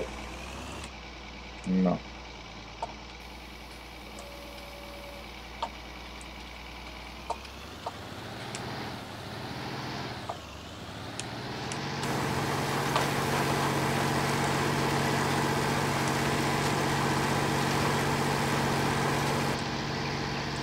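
A tractor engine in the farming video game Farming Simulator 19 cranks into life, then settles into a steady rumbling idle that grows louder and fuller. A brief voice is heard over the engine.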